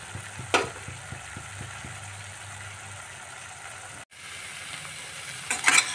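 Winter vegetables sauté in a pan over a high gas flame, giving a steady low sizzle with a few stirring clatters early on and a scrape near the end, with no talk.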